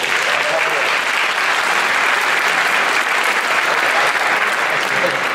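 An audience applauds steadily at a town hall meeting with Mitt Romney, a dense, loud, even wash of many hands clapping that holds throughout.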